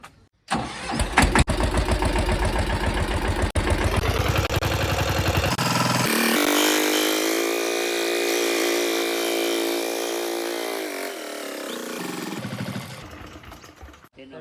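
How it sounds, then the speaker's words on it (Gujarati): A tractor engine starts with a loud chugging crank, then settles into a steady running drone that continues evenly for about ten seconds before cutting off, close and without talk. "ટ્રેક્ટર મૂકી દીધું આપણે હવે"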